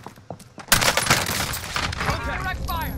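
Rapid bursts of automatic gunfire break out suddenly in Call of Duty: Modern Warfare Resurgence trios, loud and sustained over game noise.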